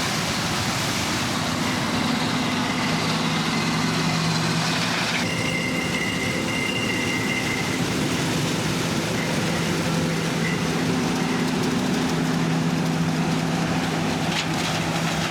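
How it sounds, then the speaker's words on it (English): A farm tractor pulling a grain cart runs steadily during corn harvest, a constant loud rumbling engine drone with faint higher whines shifting in and out, close by and without talking. "So this is the tractor and grain cart that we're going to be running."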